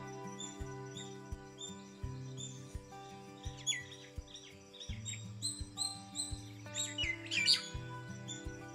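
Resplendent quetzal birds, trogon family, give short chirps and whistled calls scattered over a steady backing of low music tones, moderately close and clear, with a brighter cluster of calls near the end.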